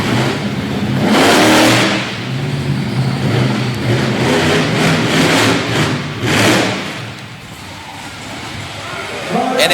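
A monster truck engine revs hard at a freestyle show, loud surging roars that swell and fall in repeated bursts against a rumbling crowd-filled background, with commentary over it.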